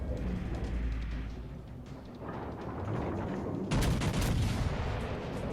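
An Italian battleship Roma fires its main guns in World of Warships Legends, with heavy booming salvos over a continuous loud rumble and a sharper burst of gunfire near the end.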